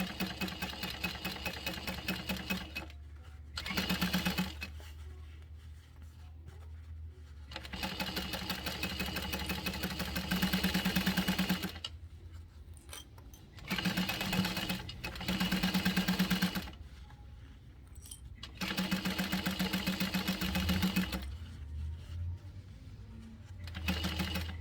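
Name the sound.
sewing machine sewing 3/8 inch seam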